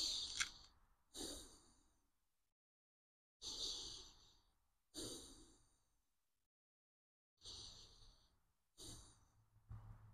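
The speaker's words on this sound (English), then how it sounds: "you're going to take three deep breaths" Three slow, deep breaths taken during a thoracic rotation stretch, each a close, airy inhale followed by a longer exhale, separated by quiet pauses.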